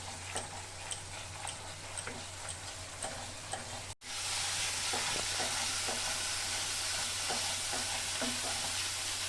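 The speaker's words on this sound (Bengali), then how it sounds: "আর মশলাটা আমি ভালো করে ভেজে নিব যতক্ষণ তেল না বেরোবে।" Spice masala with Kashmiri chilli powder fries in oil for paneer masala, a dense steady sizzle with faint ticking stirs, dipping out for an instant before surging back louder and fuller.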